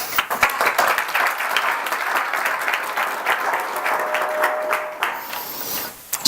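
Church audience applauding athletes who come up front for a forum, a steady wash of many hands clapping that fades out near the end.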